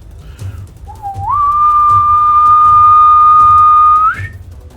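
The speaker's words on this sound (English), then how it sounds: "There's a weird, high-pitched, long, penetrating whistle" A single long high-pitched whistle starts low, rises quickly, then holds one piercing steady tone for about three seconds before cutting off, loud and close against faint background noise.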